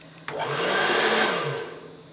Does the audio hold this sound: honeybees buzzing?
no